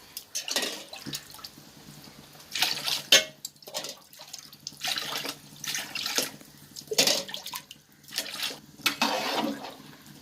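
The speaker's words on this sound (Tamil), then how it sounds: "இப்போ வந்து 11 கிளாஸ் ஊற்றினா போதும் தண்ணி." Water poured by the glass into a pot for mutton biryani with rice: repeated splashing, gushing pours of a few seconds each, separated by short pauses, close and fairly loud.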